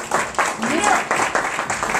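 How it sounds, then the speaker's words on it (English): An audience at a business talk claps in a short burst of applause with uneven pulses, while voices speak over it. "Let's give them a round of applause for that"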